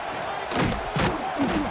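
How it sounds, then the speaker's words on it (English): Stadium crowd in an EA Sports College Football game, South Carolina Gamecocks against Virginia Tech Hokies, roars and surges in a dense wash of noise with a few loud swells and thumps, no clear voices. "this crowd is buzzing after that last score"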